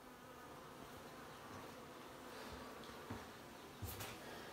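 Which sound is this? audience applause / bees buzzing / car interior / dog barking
bees buzzing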